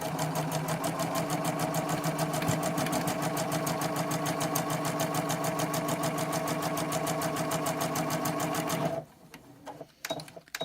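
A sewing machine runs steadily stitching a diamond-shaped dart, a rapid even mechanical clatter close up for about nine seconds before stopping, followed by a few soft handling knocks.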